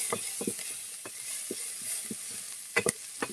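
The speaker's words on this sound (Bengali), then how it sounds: "পেঁয়াজটাকে লাল লাল করে ভেজে নেব।" Onions frying in oil with bay leaf and whole spices, a soft steady sizzle broken by a series of irregular stirring knocks and scrapes against the pan, louder near the end.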